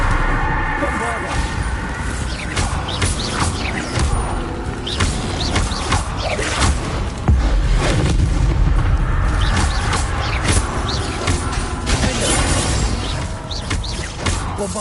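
Repeated Bombarda spell blasts in Hogwarts Legacy, booming explosive bursts that recur irregularly amid a busy combat mix, with other spell effects crackling around them.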